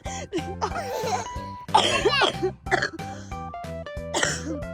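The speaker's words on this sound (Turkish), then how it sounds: "Öksürük." Harsh coughing bursts cut through steady tonal background music, a cluster in the middle and another near the end.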